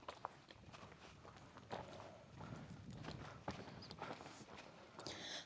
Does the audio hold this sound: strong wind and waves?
no